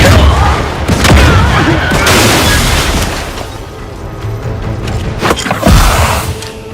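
Explosions and gunfire in the video game Outer Worlds 2: heavy booms and rumbling blasts overlap with sharp gunshot bursts, loud and close, with a fresh impact near the end.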